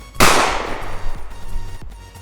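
In the Black Ops 3 video game, an assault rifle fires one sharp, loud blast that decays into a rumbling tail, followed by faint mechanical clicks and no speech.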